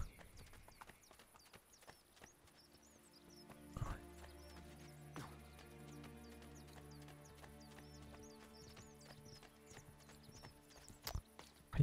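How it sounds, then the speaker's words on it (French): Rhythmic clip-clop of horse hooves in the video game Assassin's Creed Brotherhood, under a steady background hum and music, with occasional louder thumps; a horse whinnies faintly. "je peux appeler mon cheval"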